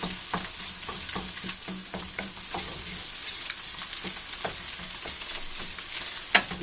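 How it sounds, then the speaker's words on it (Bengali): Egg being stirred and broken into small crumbs as it fries for a Chinese vegetable dish, with steady sizzling under a run of sharp spatula scrapes and taps against the pan, plus one louder clack near the end. "ডিমটা মোটামুটি হয়ে আসছে এভাবে দিয়ে ছোট ছোট গুঁড়ো গুঁড়ো করে করে নিতে হবে"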